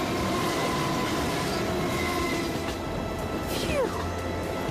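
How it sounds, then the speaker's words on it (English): A train roars through a tunnel in a snowy blizzard in an animated children's scene, a loud continuous rumble with squealing wheels sliding in pitch near the end. "It's a tunnel. It's a train."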